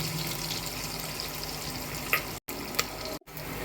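Onions fry in a pan for sambar, giving a steady soft sizzle with a couple of brief stirring clicks and two short dropouts, no talking.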